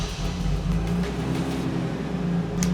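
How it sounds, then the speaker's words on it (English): A Nissan R32 Skyline GTST runs after a fuel pump rewire, its engine giving a steady, close idle hum with a low rumble throughout. "Would you look at that, the car's on"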